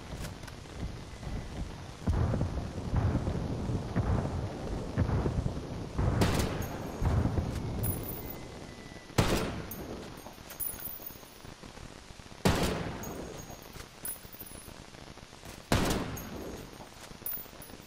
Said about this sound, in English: Taking fire! Taking fire!